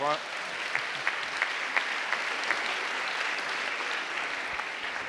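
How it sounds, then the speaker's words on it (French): Audience applause at a health conference on ageing well, a steady round of clapping from the room with a few sharper individual claps standing out, and a voice speaking over it. "On l'applaudit bien fort"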